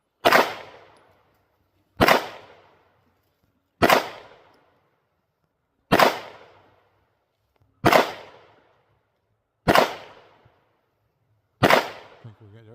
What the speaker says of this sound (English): here goes Taylor with a combat. All right. Shooting a little left